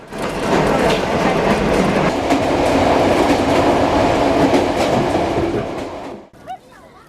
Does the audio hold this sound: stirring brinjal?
no